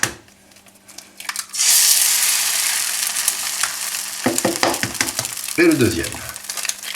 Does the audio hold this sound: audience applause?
no